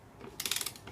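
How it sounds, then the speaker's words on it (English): A torque wrench clicks while tightening a bolt during an NP249 transfer case rebuild, a quick ratcheting burst of about six sharp clicks, close and alone. "You should get a click."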